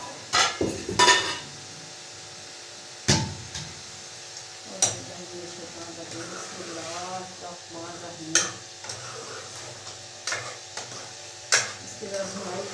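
Ghee goes into a pan already holding green chillies, with sparse clinks of a utensil against the pan over a low, quiet cooking hiss; a few sharp metallic knocks stand out at intervals.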